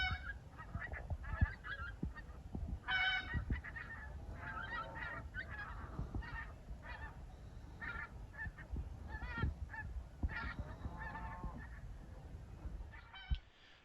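Wild geese honk over and over as a flock passes overhead during a bird hunt. Their calls overlap in an irregular chorus at moderate distance, with no talking.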